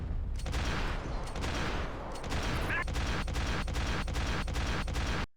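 Gunfire in Max Payne 3, a dense fusillade of rapid shots cracking in a regular rhythm over a continuous roar of battle, loud and close, with no talk over it.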